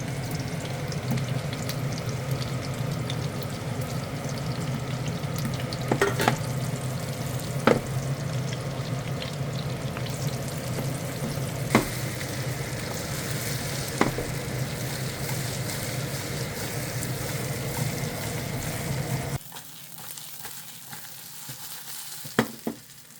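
Eggplant pieces frying in a modest amount of oil, a steady continuous sizzle with occasional sharp clinks of stirring, then quieting near the end.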